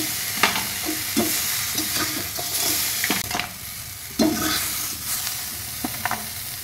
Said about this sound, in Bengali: কাঁকড়াগুলো ভাজা হয়ে গেছে। এগুলো খুব বেশি ভাজবো না।